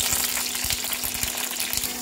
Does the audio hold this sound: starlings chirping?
no